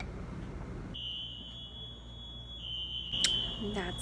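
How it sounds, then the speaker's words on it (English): A steady high-pitched electronic fire alarm tone sounds continuously, a real alarm rather than a drill, joined near the end by sharper bursts and faint voices in the background. "Someone actually pulled the alarm."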